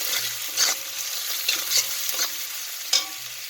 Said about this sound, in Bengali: এবার রসুনটাও তুলে দিলাম দিয়ে সেই রসুনটা ওর মধ্যে ভেজে নেব